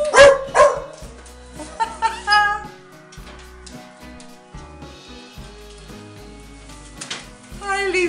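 Three small dogs arrive through a door during a home visit, giving excited, high yelps and short barks in bursts amid greetings and lively talk.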